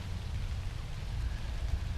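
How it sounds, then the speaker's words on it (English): Light rain pattering steadily on a tent on a Hadrian's Wall walk, a soft continuous hiss over low rumble with no voices. "It's just started to rain"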